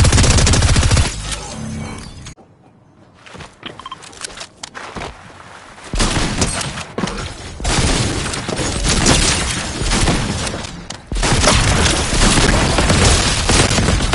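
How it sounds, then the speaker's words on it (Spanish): Rapid gunfire in the video game Fortnite crackles in loud, dense bursts, aimed at the player, fading into a quieter lull of scattered shots before heavy firing resumes and continues to the end. "No sé de dónde más me están disparando"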